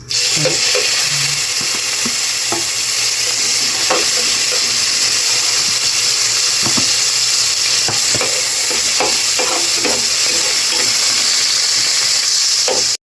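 Loud, steady sizzling of fatty pork frying in hot oil for bihon guisado, with occasional clinks and stirring sounds over the constant crackle.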